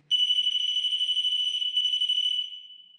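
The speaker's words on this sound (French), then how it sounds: "Tu le fais biper à chaque fois que je vais t'expliquer quelque chose?" A steady high electronic beep from a device during a paranormal investigation in an abandoned sanatorium, one sustained tone lasting about two and a half seconds before fading, close and alone.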